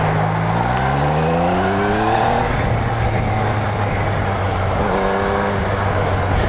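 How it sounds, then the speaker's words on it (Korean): A motorcycle engine heard while riding at night, a loud, steady drone with rising and falling revs as it speeds up and shifts. "저도 오랜만에 오토바이 타고 나왔어요."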